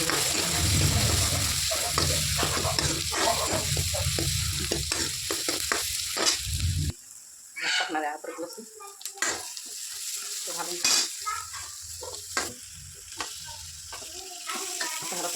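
Onions and mixed vegetables sizzling in a pan for pav bhaji, with a spoon scraping and stirring in irregular strokes; loud frying at first, then quieter sizzle under repeated close stirring clatter.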